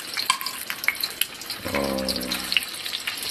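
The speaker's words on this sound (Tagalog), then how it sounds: "Ayan, piniprito." Food fries in hot oil at a street food stall, a continuous crackling sizzle close by with scattered sharp pops, joined midway by a low mechanical hum.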